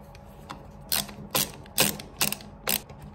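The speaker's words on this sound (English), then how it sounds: "we'll tighten that up with the screwdriver now" Screwdriver tightening screws on a UPVC window handle, giving about six sharp ratcheting clicks in an uneven rhythm, close and fairly loud with no talking.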